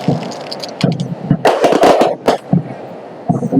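Firecrackers go off outdoors during a festive gathering, a series of sharp loud cracks and pops bunched together, with a few scattered bursts afterward and crowd noise between them.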